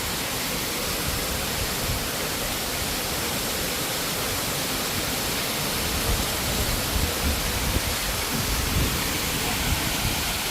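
Bugsukan Falls in Tiwi, Albay roars as a steady, broadband rush of falling water, constant and enveloping without pause, with faint low rumbles underneath.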